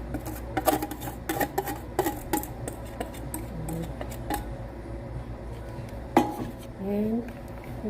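A banana muffin flour mixture is stirred into other ingredients in a bowl. A utensil clinks and scrapes against the bowl in uneven bursts, with a low hum underneath.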